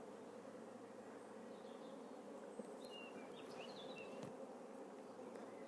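Honeybees in an opened hive make a steady, close, continuous buzz that fills the whole stretch, with a few higher tones flitting across it and no speech.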